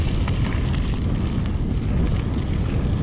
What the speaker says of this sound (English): I can hear quite a bit of wind in my ears.